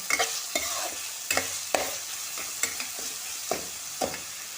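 Chopped onion with a piece of green chili sautéing in a pan, soft steady sizzle broken by repeated scraping stirs of a spatula, close and fairly quiet with no talk.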